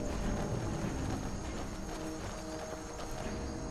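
Horse hooves clip-clopping in the game Skyrim, a rapid, continuous galloping patter under dense, loud background noise with no pause.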